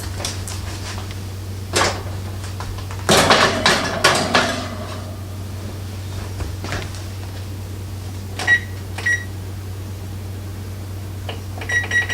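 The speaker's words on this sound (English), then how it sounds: "So we'll put these in the oven." An oven holding a tray of chocolate cupcakes is loaded, with a burst of metal clatters and a door thump, then sparse knocks and a few short electronic beeps in a quiet kitchen.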